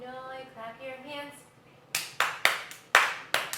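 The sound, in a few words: hand clapping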